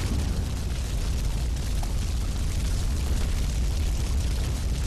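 Gunshot and bursting fire extinguisher in the Duke Nukem Forever video game, heard as a steady, dense roar of blast noise with heavy low rumble filling the whole stretch, loud and continuous without clear separate hits.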